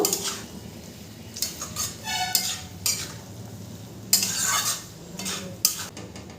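Banana flower curry with salt being stirred in a pan, a spatula scraping and clinking in bursts of close, uneven strokes over a soft background sizzle.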